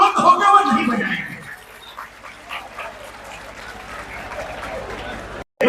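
A crowd at a wrestling event claps and cheers loudly for a moment, then the applause thins out under a voice.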